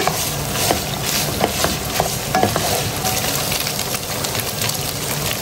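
Ground meat browning in a pan for Filipino-style spaghetti, a steady loud sizzle and crackle with occasional scrapes of a spoon stirring it, close and continuous with no talk.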